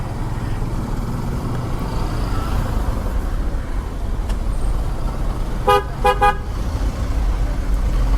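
Two short horn toots from a Yamaha FZS V2 motorcycle sound in quick succession amid steady road traffic rumble, clear and close over the busy street noise.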